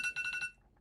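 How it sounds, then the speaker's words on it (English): Alarm clock ringing in rapid repeated electronic beep bursts, about five pulses in half a second, then cutting off into near silence. "that is my alarm to wake up"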